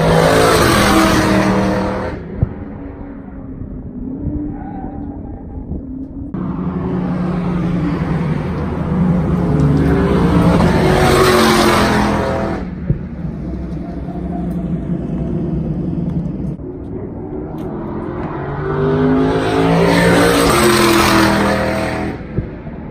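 Twin-turbo Camaro SS racing on a road course, its engine roaring loud and close in sustained bursts that rise and fall, with tire squeal at moments and a voice talking faintly in places.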